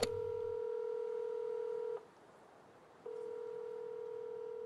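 Phone dialing tones in the Fortnite video game: a sustained tone with a short pause, then another long tone, fairly quiet and alone with no talking.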